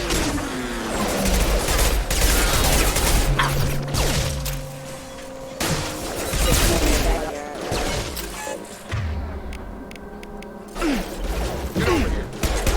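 Bursts of weapon fire and mechanical combat noise from Mass Effect 2 on PC, dense and loud throughout, with game voices calling out over the shooting.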